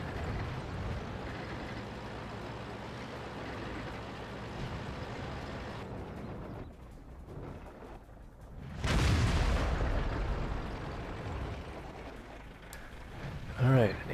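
A tank cannon fires a high-explosive round in World of Tanks, a single loud broadband boom around nine seconds in, rising out of steady engine rumble and trailing off, with a brief sharp crack near the end.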